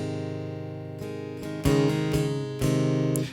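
Acoustic guitar with a capo playing a song intro in G, a few picked notes and strummed chords ringing together, close and soft with no voices.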